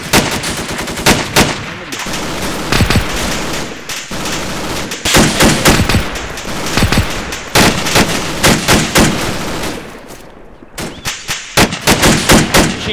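Loud, close machine gun fire in the World War II game Invasion 1944, coming in repeated rapid bursts separated by short pauses, with no talking.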